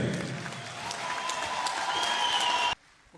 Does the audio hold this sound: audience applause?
yes